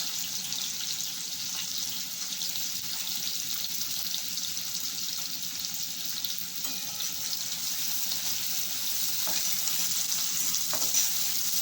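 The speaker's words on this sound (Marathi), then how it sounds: "आणि आता चांगला कांदा परतून घ्यावा" Onion sautés in a pan with a steady, fairly loud hiss of frying that stays even throughout, with only a few faint clicks of stirring and no talking.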